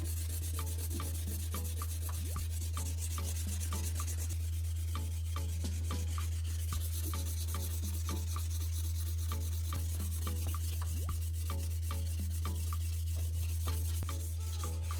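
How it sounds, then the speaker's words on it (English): Wet sanding of plastic filler on a repaired plastic part with sandpaper, even back-and-forth strokes making a steady close rubbing scrape throughout, with a constant low hum in the background and no speech. "I sand with even movements and do not stay in one spot too long"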